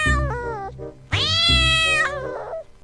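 A cat meows twice, close and loud, with a short call followed by a longer, drawn-out meow and no talking.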